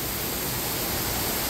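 Indoor waterfall inside a Las Vegas casino conservatory, a steady loud broadband rush of falling water that fills the space continuously with no pauses.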